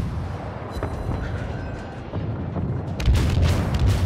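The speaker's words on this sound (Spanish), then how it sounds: "Disparo." Naval guns firing in World of Warships, with low booming blasts near 1 s, around 2.1 s and a heavier burst from about 3 s, over a steady rumbling battle background.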